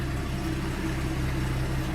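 A stock engine in a 1967 Ford F-100 pickup idles with a steady, even low rumble, moderately quiet and constant.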